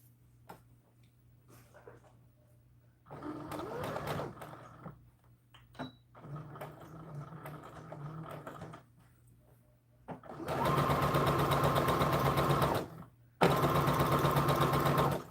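A sewing machine stitches a doll dress skirt seam in several runs, softer stop-start stitching early on, then two long, loud, steady bursts close by near the end.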